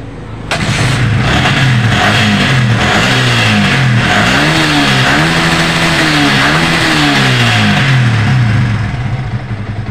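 A Yamaha Vixion motorcycle that had been cutting out suddenly is kick-started and catches abruptly, then its engine revs loudly and close by, the pitch rising and falling repeatedly before settling into a steady run.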